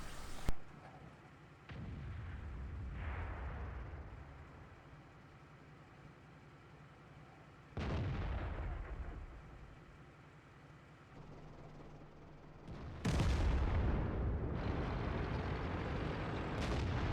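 Tank guns fire in a World of Tanks battle on the El Halluf map: several heavy booms arrive at intervals, each followed by a long rumbling decay over steady engine drone, with no talking.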